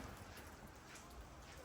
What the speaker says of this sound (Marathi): परत पाऊस चालू झाला.